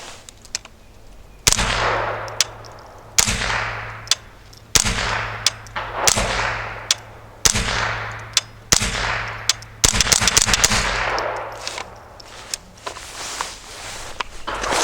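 A range rifle fires alternating RWS and Eley rounds, a steady series of about a dozen sharp, loud shots spaced a second or so apart, close by with brief ringing decay after each report.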